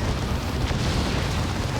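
A Baneblade super-heavy tank explodes in Dawn of War 2, a sustained deep, rumbling blast that fills the whole clip at steady loudness with no voices.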